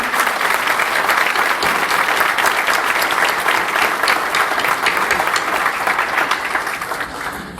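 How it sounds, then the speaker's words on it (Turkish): A graduation ceremony crowd applauds aircraft and industry department graduates at a mechanical engineering faculty reunion, with steady, dense, loud clapping that holds evenly and fades slightly at the end. "Kendilerini alkışlıyoruz"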